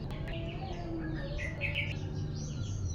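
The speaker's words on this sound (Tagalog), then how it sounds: "grabe ang mga ibon niyang" Birds chirp and call busily around a vegetable farm, with overlapping short tweets and trills at close to medium distance over a steady outdoor background hum.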